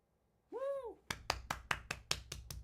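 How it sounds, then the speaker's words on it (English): Quistis claps about eight times in a steady rhythm, crisp and close, right after a short vocal whoop. "Quistis claps"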